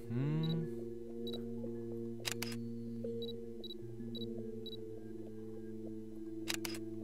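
Several sharp camera shutter clicks from the horror video game Trauma, spaced irregularly over a steady, sustained ambient music drone, with no talking.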